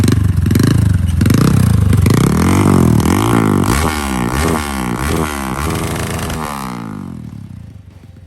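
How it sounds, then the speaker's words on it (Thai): A motorcycle engine is blipped hard several times in quick succession, each rev rising and falling with a loud, rasping exhaust note, then it settles and fades out near the end. "มาฟังเสียงเบิ้ลกันดีกว่านี่"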